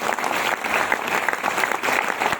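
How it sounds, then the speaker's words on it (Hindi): An audience at a Jaipur leaders meeting applauds loudly and continuously, a dense roar of many clapping hands filling the room without pause. "एक बार चाहेंगे इनके दमदार तालियां।"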